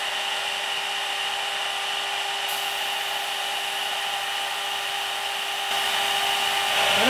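A milling machine with a one-flute bit cuts aluminum at increased speed for a Raspberry Pi 4 touchscreen case, a steady high whine with a sustained tone that shifts and grows louder near the end, with no talking.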